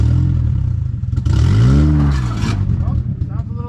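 A car engine, louder and rougher after suspected muffler damage on a back road near the Jarbidge ghost town, rumbles steadily up close with a rising rev in the middle while people talk over it.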